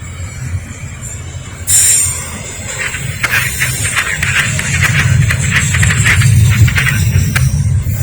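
A westbound Norfolk Southern train rushes past at speed near Lynchburg, Virginia: a loud, steady rolling rumble with rhythmic wheel clacks and a brief high squeal of wheels, sustained close by throughout.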